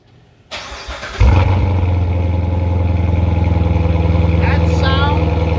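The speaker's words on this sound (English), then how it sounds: "That sound is the sound of my own personal car" A 2017 Grand Sport convertible fires up after a brief quiet moment, then settles into a loud, steady idle with a deep, even rumble; a few faint tones chirp near the end, with no talking over the engine.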